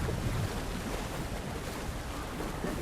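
Water in the game Alan Wake 2, a dense, steady wash of surf and splashing with wind-like hiss, constant and fairly loud throughout, no voices.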